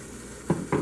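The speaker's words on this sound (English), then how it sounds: "just pour some soy sauce on there" Soy sauce hits chicken in a hot pan, giving two short bursts of sizzle over a steady, quiet background hiss.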